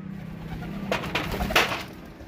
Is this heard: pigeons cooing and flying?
yes